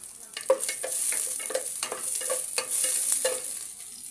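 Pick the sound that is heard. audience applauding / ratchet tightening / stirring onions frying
stirring onions frying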